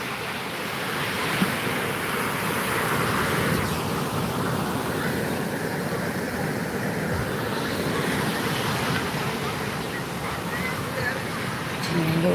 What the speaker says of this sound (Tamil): கடல்